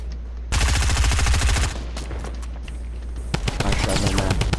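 Rapid automatic gunfire from the Fortnite battle royale game, a dense burst of shots followed by more scattered bursts, loud and close, with a voice talking over the game audio.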